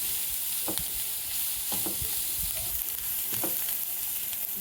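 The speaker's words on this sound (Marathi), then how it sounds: "बघा, कांदा आपला भाजतोय चांगला." Chopped onion and carrot sizzle steadily in a pan for a Schezwan pizza topping, with occasional scraping stirs breaking through the constant frying hiss.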